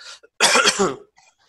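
A single harsh cough, short and close, with faint breathy noises just before and after.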